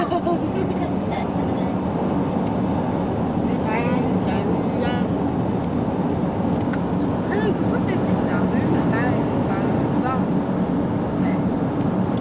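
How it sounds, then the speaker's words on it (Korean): A long train rolls past with a continuous low rumble and clatter, steady and fairly near, while people chat over it. "기차 간다 얘들아 기차 좀 봐"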